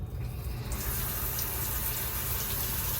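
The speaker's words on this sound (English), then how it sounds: "Filling up on water here." Water runs from a hose into a van's tank at a stop in Utah, a steady, close, rushing gush that holds its level throughout with no talk.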